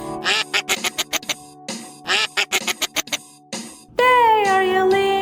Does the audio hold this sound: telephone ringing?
no